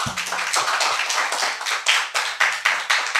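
Clapping from the audience at a science academy roundtable forum as the opening speaker is welcomed. It is a close, steady patter of many hands, with a few louder individual claps standing out near the end.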